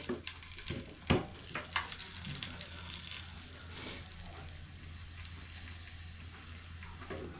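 Food fries in a pan with just a few drops of oil, giving a soft, even sizzle under a steady low hum, with a few louder clinks and stirring knocks near the start.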